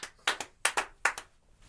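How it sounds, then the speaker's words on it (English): One person claps hands in a few quick, close bursts, paired double claps repeated three times in a loose rhythm, crisp and near with quiet gaps between. "Love to clap for those green Omnis."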